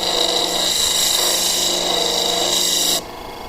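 A gemstone is ground against a 600 grit polishing wheel, giving a steady loud whirring, grinding drone that cuts off abruptly near the end, leaving a quieter hum.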